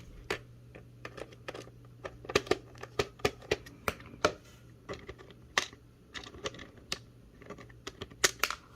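The last screw is worked out of a VHS cassette shell with a run of small, irregular clicks and ticks over a faint steady hum, close and quiet, with no talking.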